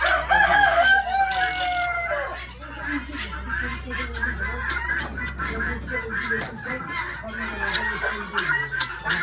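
Hens cluck and a rooster crows loudly on a farm keeping pheasant-type hens, geese and ducks, the calls layered close by with steady mechanical hum and a voice talking underneath.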